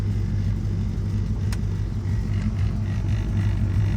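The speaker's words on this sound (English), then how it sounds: "as you can see, it idles with no hesitation" An E36 BMW M3 with an LS V8 swap idles smoothly and steadily, a loud, close, continuous low rumble with no hesitation and no talking.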